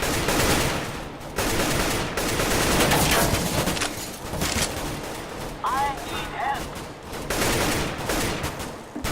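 Bursts of rapid gunfire from a Counter-Strike: Global Offensive match come in loud, dense volleys separated by short gaps, with someone talking over the shooting.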